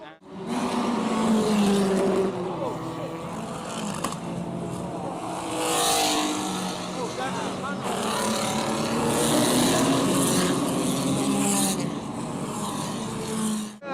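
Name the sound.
race cars on track during a race crash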